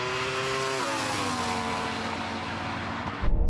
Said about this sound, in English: That Ferrari just came past me.